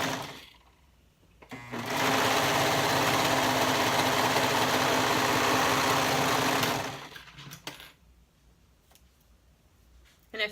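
A serger stitches elastic onto a tank bodice in one loud, continuous whirring run of about five seconds, with quiet handling noises before and after.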